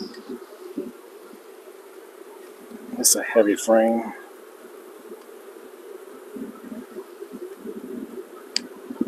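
A steady honeybee buzz hums throughout, like bees swarming close around a hive, while a person speaks briefly over it.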